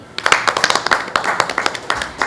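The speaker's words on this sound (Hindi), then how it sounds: "तो मैं उनके लिए भी ज़ोरदार तालियां चाहूँगी।" Audience at an event clapping in a quick, uneven rhythm, sharp individual hand claps close by and fairly loud, sustained throughout.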